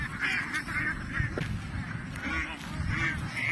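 Domestic ducks in a rural province setting quacking and honking in repeated nasal bursts, several calls in a row at moderate distance over faint background noise.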